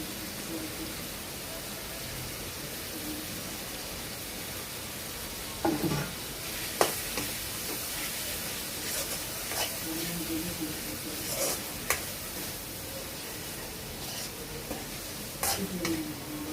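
Chopped ginger, onion and garlic frying in a pan while being stirred, a continuous hiss of sizzling with scattered scraping clicks from the spoon, with a voice speaking now and then.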